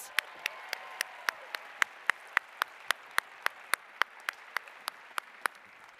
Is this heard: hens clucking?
no